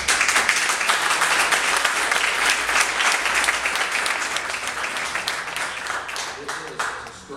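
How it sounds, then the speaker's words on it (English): Loud, sustained applause from the audience at a Beloit school district information session on proposed vouchers, many hands clapping in a dense wash that slowly fades near the end as a voice begins to speak. "extraordinary and it's worthy of applause."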